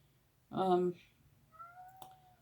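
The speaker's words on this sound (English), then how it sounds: "And the cat is outside the door crying." A new pet cat crying outside a door indoors, one drawn-out meow followed by a fainter, thinner second call, fairly near and alone without talk.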